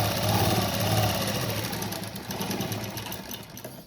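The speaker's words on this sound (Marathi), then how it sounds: "या साईडला पाव इंच शिवून घ्यायचं. बरोबर कडेला टिप मारून घ्यायची." A sewing machine running a quarter-inch seam along a blouse neck edge, its motor hum and quick needle ticking steady at first and then easing and softening toward the end, with no voices.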